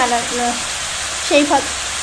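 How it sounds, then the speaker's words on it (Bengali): Grated radish fries in a pan with a close, steady sizzle, while a voice speaks briefly over it. "আর এখন মূলোটা ভেজে নেব।"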